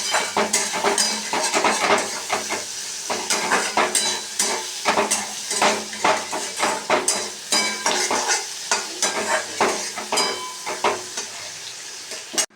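Onions and green chilies fry in oil with nigella seeds while a utensil stirs them in the pan, rhythmic scraping strokes repeating over a steady close sizzle, with no one speaking.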